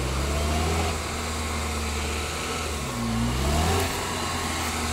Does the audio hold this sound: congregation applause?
no